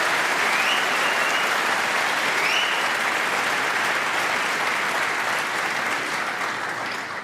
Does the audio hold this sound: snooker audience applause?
yes